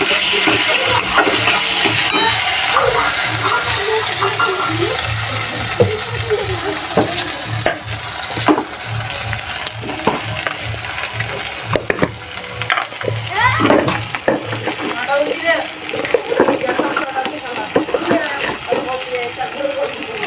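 Cumin seeds frying in hot oil for a Bengali dhoka dish, a steady close sizzle and crackle lasting throughout, with stirring scrapes and clatter on top and a voice speaking now and then.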